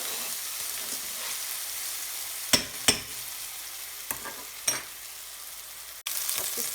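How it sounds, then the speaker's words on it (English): A spoon stirs vinegar and sugar into a marinade for South African chicken kebabs (sosaties), giving a handful of distinct scraping strokes over a quiet background. "Give it a bit of a stir."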